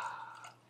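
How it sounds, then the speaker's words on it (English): Redbreast 12-year Irish whiskey poured into a glass, a brief soft trickle of liquid that tapers off quickly, faint and close with no talking over it. "I need to have some poured in my glass."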